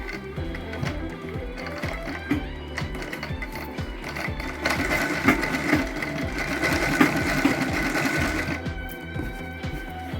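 A sewing machine stitches a sleeve onto a readymade kurti top, its needle clattering in a fast, even mechanical rhythm that runs continuously, growing slightly louder midway before easing off near the end.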